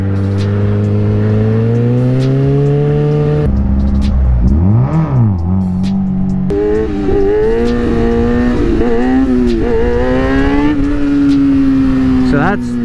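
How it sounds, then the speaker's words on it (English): Motorcycle engine revved hard through rising and falling pitch sweeps, then the clutch dumped for a knee-knocker wheelie, loud and close with a sustained harmonic whine throughout. "going to rev it, and then you're going to dump the clutch."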